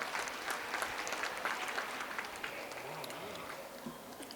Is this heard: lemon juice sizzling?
no